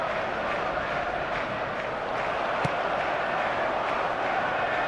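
A stadium crowd in eFootball keeps up a steady murmur of applause and cheering, with a brief sharp knock midway and a commentator talking over the background roar.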